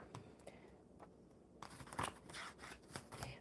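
Tarot cards are shuffled quietly and close up. Faint papery taps come first, then a denser stretch of soft riffling and rustling bursts.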